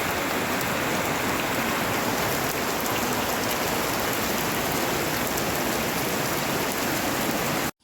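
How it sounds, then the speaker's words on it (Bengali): Steady heavy rain pours down in a village, a dense unbroken hiss of drops on surfaces, loud and close, with no voices over it. "এতক্ষণ আমি আপনাদেরকে বৃষ্টির আওয়াজ শোনাচ্ছি"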